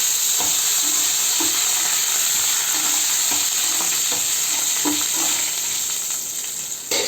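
Curry leaves crackle and sizzle in hot tempering oil for lemon pulihora, a loud, steady frying hiss with occasional stirring clinks throughout.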